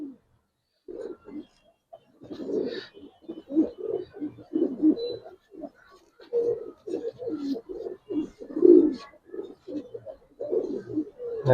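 Giribaz silver pigeons coo in repeated low, throaty bursts, close by, rising and falling in short phrases with brief gaps between them.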